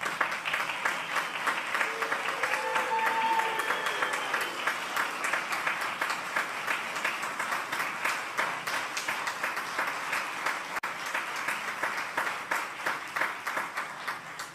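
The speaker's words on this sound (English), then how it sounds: "Please join us in giving today's recipients a round of applause." Audience at an award ceremony giving the recipients a round of applause: steady, dense clapping from a sizable crowd, sustained for the whole stretch and slowly thinning toward the end.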